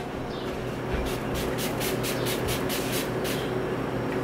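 A handheld spray bottle is pumped in a quick run of about ten short, hissing bursts, close by, over a steady room hum.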